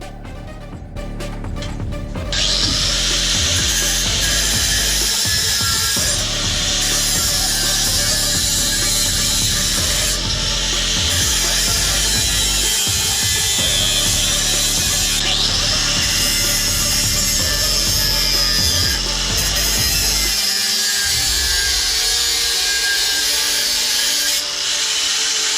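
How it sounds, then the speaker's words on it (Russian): Steady back-and-forth hand sawing through metal frame tubes for a Minsk motorcycle build, loud and rhythmic throughout with brief pauses between strokes, no voices. "После чего, смерив размер, начал пилить."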